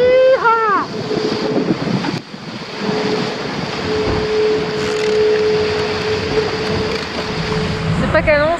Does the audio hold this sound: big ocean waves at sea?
yes